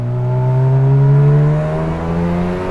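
A Mazda FD RX7 rotary engine revs with a loud, sustained, buzzy drone whose pitch climbs gently and then holds high for about three seconds, with no speech.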